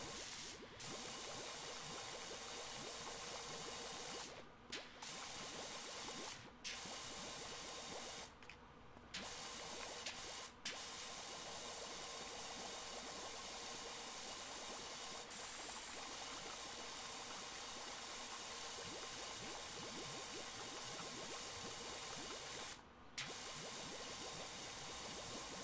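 A pressure washer in the PowerWash Simulator video game sprays in a continuous loud hiss, broken by a few short pauses where the nozzle stops and starts again.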